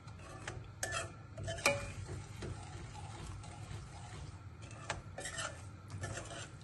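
A spoon scrapes and stirs semolina roasting in ghee in a pan, with soft rhythmic scraping, a few sharper clinks against the metal, and a faint sizzle underneath. The sound is quiet and close, with no voices.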